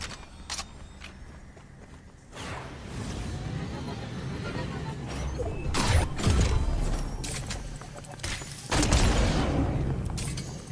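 Charged shotgun blasts in the Fortnite video game land as several deep booming bursts spread across the stretch, each with a rumbling tail, over game ambience and clicks.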